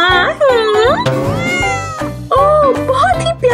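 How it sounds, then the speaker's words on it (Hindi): A cat meows loudly and close, several drawn-out, pitch-bending cries in quick succession, some overlapping in a rising and falling wail. "ओह बहुत ही प्यारी बिल्ली।"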